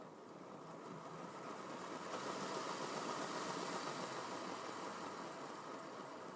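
A small electric motor in a model train runs steadily on a travelling layout, a continuous mid-range whir with a slight rise in intensity after the first couple of seconds, close and alone with no talking.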